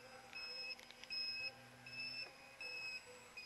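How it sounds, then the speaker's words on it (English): A low-battery alarm on a cheap foam-board RC plane beeps in repeated steady high-pitched tones, short bursts in an uneven on-off pattern over faint background noise. "We got a battery alarm."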